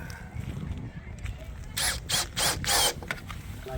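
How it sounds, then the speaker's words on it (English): A power driver runs in several short whirring bursts, screwing aluminum trim onto an exterior window sill, with quiet handling noise before the bursts. "You just put it on and then you just screw it on"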